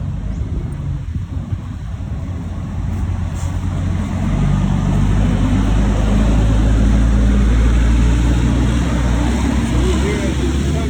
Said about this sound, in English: That truck is coming.